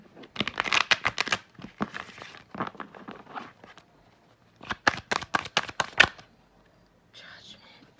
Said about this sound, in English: I'm going to shuffle and pull again